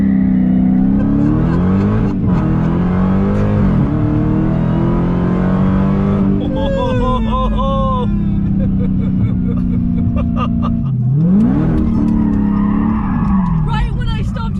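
A Dodge Hellcat Redeye launches hard, its supercharged engine roaring and tires squealing loudly as the car slides sideways, with repeated revving surges and screeching over about fifteen seconds, while people talk over the noise.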